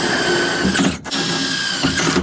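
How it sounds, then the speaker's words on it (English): An impact driver driving screws whirs loudly in two bursts, separated by a short pause, the motor running steady and close. "use your impact and shoot it in"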